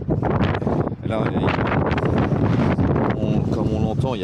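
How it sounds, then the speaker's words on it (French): Strong wind buffets the microphone on a winter road along the Côte-Nord, a loud, constant roaring rush with gusty swells, while a voice talks through it. "comme on l'entend, il y a vraiment beaucoup de vent"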